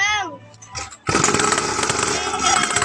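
A motorcycle engine bursts into life after about a second and runs loud and close, with a rough, steady roar. Brief voices are heard before it starts.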